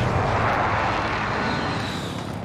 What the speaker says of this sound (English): Thanks for the helicopter, sir. Get us in the air.